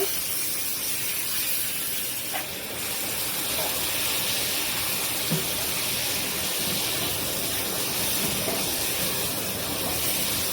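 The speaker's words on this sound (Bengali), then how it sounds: "মাছ দিয়ে দিলাম মাছ দিয়ে একটু কষাবো" Tengra fish frying in a hot pan, giving a loud, steady, close-up sizzle and hiss that runs unbroken throughout.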